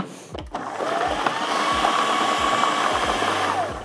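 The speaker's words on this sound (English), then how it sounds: "All right, let's blend this up." Kitchen blender whirring as it blends a curry paste for Malaysian Kapitan chicken, a loud, steady motor whine that starts up and runs continuously near the listener, with no talk.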